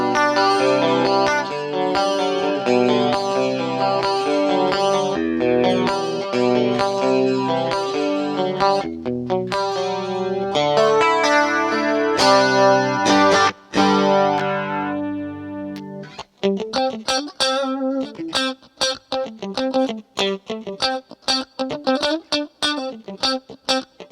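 Electric guitar played through an MXR Rockman X100 analog tone processor with its chorus effect on, chords ringing in a shimmering, swirling wash, then turning to sparser, cleaner plucked notes with distinct decays.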